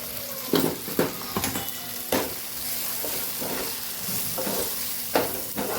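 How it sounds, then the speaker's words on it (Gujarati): Green chillies sauté in a hot pan with a steady sizzle, and a spoon stirs them now and then in short scraping strokes. "મરચાં સરસ એવા સતળાઈ ગયા છે એટલે કે શેકાઈ ગયા છે મસ્ત એવા।"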